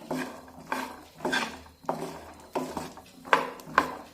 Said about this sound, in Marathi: तर आता एकसारखं हे मटार असे हलवून घेऊया म्हणजे ते सगळीकडून एकसारखे भाजले जातील